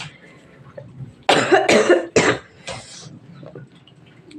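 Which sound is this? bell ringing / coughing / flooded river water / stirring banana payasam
coughing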